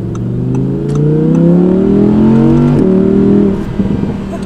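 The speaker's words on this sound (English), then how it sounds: "Oh my gosh, those pops. And that wasn't even a crazy acceleration." An Audi R8 V10 accelerates hard, its engine note rising loud and close through the revs before a gear change, then easing off with a few sharp exhaust pops at the end.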